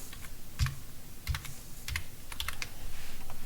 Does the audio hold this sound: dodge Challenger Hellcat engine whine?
no